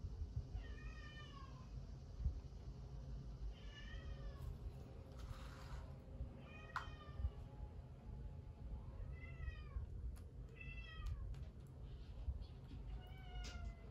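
A cat meows repeatedly indoors, a series of short, fairly faint calls spread across the stretch over a steady low background hum.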